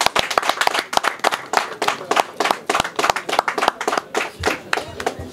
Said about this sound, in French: Applaudissez quand même pour nous,